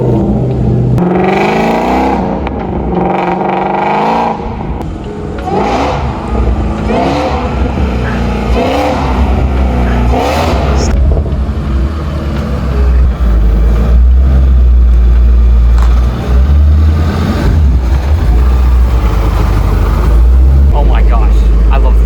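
1,000 HP Shelby GT350 engine firing up and revving, loud rough bursts and swelling revs that give way to a heavy sustained low rumble, with excited voices talking over it at times.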